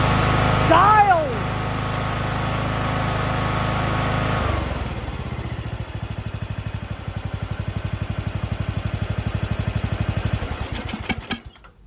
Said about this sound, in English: Just did idle screw, got her dialed. That's idle.